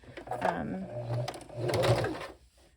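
Sewing machine running in two steady bursts as it stitches the fabric of a shirt being made into a memory towel, close and fairly loud, stopping briefly between runs.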